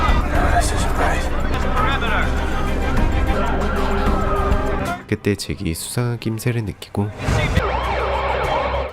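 Police car sirens wail in a film chase scene toward Manhattan, loud and continuous at first, then broken by bursts of action sounds before the siren returns, with a narrator speaking over it.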